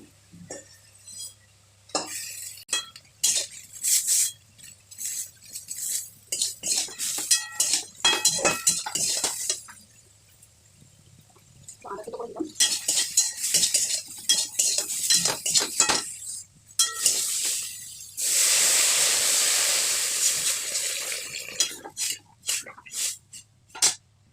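Eggplant pieces lifted from a pan of Bengali sukto, giving repeated clinks and scrapes of a utensil against cookware, with bursts of busier clatter and a steady sizzle-like hiss near the end; no talking.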